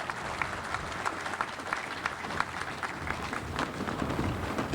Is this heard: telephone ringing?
no